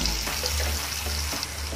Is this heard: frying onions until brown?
yes